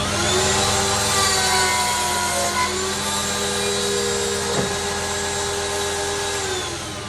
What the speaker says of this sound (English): We're going to use the screw pocket machine on our legs and our rail material too.